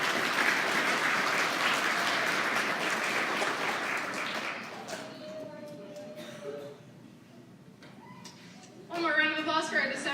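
Applause rings out at a school awards assembly for the December Students of the Month, dense clapping that fades by midway and gives way to scattered voices and a speaker talking.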